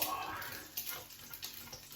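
An egg fries in oil in a pan, giving a soft, continuous sizzle dotted with small crackles and pops, faint and alone.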